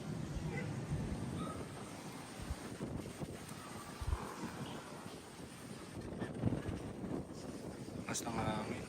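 Wind blows steadily outside a flooded house, a rough, continuous rumble buffeting the microphone, with voices faintly underneath.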